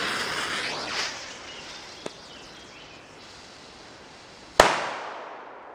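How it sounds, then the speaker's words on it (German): Diamond D-Böller firecrackers go off outdoors: a small pop early on, then one sharp, loud bang near the end that rings out and fades over a hissing background, with no voices. "wir zünden natürlich auch nochmal einen zweiten"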